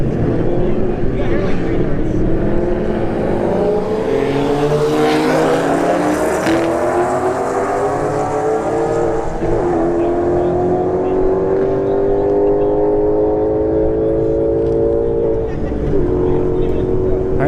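A Golf and an S197 Mustang launch side by side on a drag strip, engines revving hard with rising, loud, continuous roars that climb in pitch over many seconds, with crowd or announcer voices underneath.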